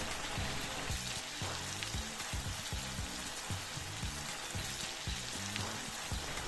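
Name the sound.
onions frying in a pan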